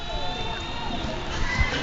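A lively evening crowd at a women's T20 cricket match in Chelmsford, England against South Africa, keeps up a continuous murmur and scattered shouts throughout, with no standout cheer.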